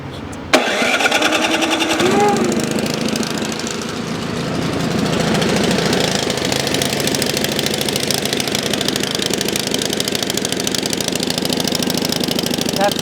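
An abandoned Ariens snow blower engine sputters and catches after priming, then runs loud and steady, a rough mid-pitched drone that continues without a break, with voices briefly heard at the start.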